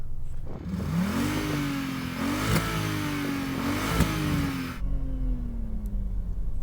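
Audi RS6 C5 engine revving hard close by, rising and falling through several throttle pulls with a sharp crack on lift-off, then cutting back to a low idle rumble; no voices.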